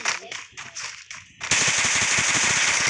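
Gunfire in the Free Fire mobile game: a few short bursts, then dense rapid automatic fire that goes on without a break, loud and close.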